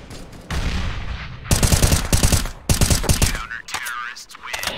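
Rapid bursts of close gunfire from a Counter-Strike style shooter crack in two dense volleys, loud and near, with brief gaps and a trailing shot or two afterward.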